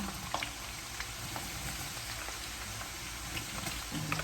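Chopped garlic fries in hot oil with a constant close, bubbling sizzle, broken by faint crackles and small pops.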